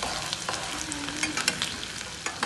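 Carrots and beans fry in a pan for a mixed vegetable dish made without onion or garlic, a continuous close hiss of frying with light clicks and stirring sounds and no voices.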